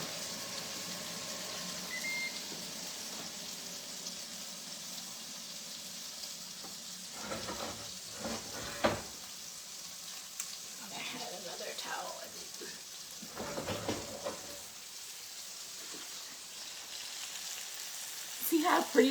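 Red snapper and vegetables sizzling in a skillet, a steady soft frying hiss with occasional louder stirring scrapes and pops.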